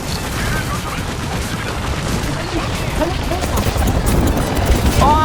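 Dense bursts of rapid gunfire from a video game fight rattle continuously and fairly loud, mixed with excited players' voices talking over the shooting.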